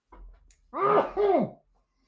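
A single short sneeze indoors during a tabletop game session, a quick intake followed by two close bursts, fairly quiet and alone.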